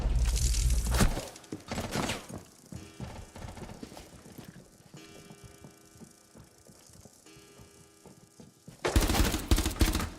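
Burst-fire gunshots in the video game Rainbow Six: loud clusters of rapid shots at the start and again at the end, with sparser clicks and lighter gunfire echoing in between.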